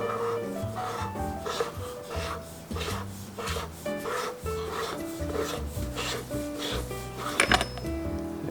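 Option-O Lagom P64 coffee grinder being unscrewed, close repeated gritty metallic rubbing and scraping in a rough rhythm, ending with a few small clicks.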